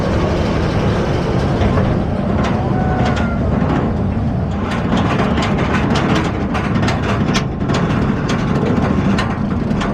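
Kumba roller coaster ride at Busch Gardens Tampa Bay, with a loud, steady mechanical rumble and clatter of the train on the track. Repeated ratcheting clicks come through as the ride continues.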